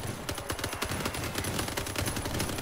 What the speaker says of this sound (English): something is shooting at us